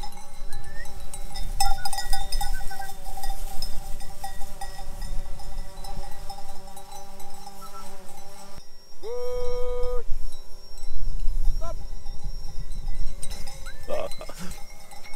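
A flock of ewes mills about with clinking bells and scattered bleats, close and steady, while a drone whines overhead partway through.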